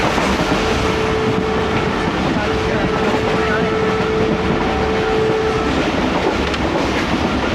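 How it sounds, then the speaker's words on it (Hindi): An oil train rolling past on a railway line in Pakistan, a loud continuous rumble with rail clatter and a faint sustained tone running through most of it, steady from start to end. "ऑयल ट्रेन आती है इधर।"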